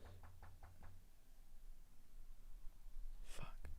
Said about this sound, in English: A neighbor is knocking on your door.